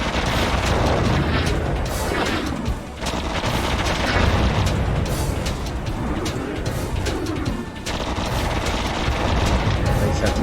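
Enemy gunfire and explosions in the PS2 shooter Rebel Raiders: Operation Nighthawk, a dense, continuous barrage of booms and blasts with a couple of brief lulls, loud throughout.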